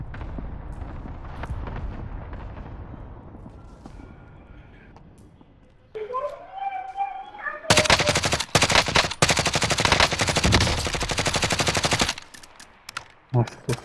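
Loud, sustained bursts of rapid automatic gunfire in the video game Call of Duty: Modern Warfare, after quieter rumbling and a rising electronic tone, ending in a few scattered shots.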